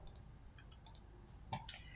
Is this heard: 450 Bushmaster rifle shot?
no